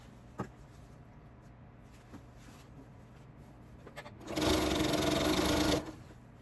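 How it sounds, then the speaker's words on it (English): A sewing machine chain-stitches quilt strips end to end for a heart quilt, a loud steady whir lasting about a second and a half after quiet handling clicks and taps. "I'm just going to keep sewing these end to end"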